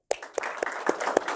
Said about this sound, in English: I want to give applause.